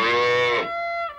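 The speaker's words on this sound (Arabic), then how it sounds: "أوه بقرة" A cartoon cow gives one loud, close moo that drops in pitch and trails off with a short nasal tail.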